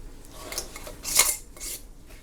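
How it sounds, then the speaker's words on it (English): Metal canning jar lids being set onto jars while canning meatloaf, a short run of close metallic clinks and scrapes with one brighter clatter in the middle. "Put on your lids."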